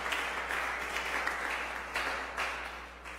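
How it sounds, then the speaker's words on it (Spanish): A church congregation claps in steady, dense applause during a sermon, a sustained, moderately loud wash of hands with a low hum underneath. "Dele gloria a Dios y un aplauso"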